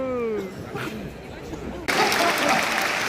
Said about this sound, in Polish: to przepiękne brawa za samą dobry wieczór